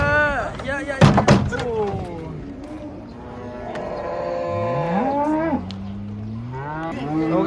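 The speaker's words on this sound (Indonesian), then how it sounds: "ini guys kita lihat udah beberapa sapi yang datang nih" Cattle moo repeatedly at a livestock market, long loud calls rising and falling one after another, with a sharp knock or slam near the start and voices in the background.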